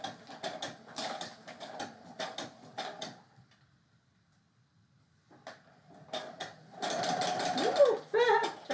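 Sewing machine stitching through a chicken feed bag, running in bursts of rapid mechanical clatter with a quiet pause in the middle, then a louder, steadier run near the end.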